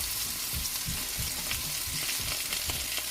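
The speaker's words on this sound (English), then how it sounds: "we're just gonna toss the onions in." Onions tossed into a hot skillet with seasoned potatoes sizzle and crackle steadily, with a few soft stirring scrapes, close by and without speech.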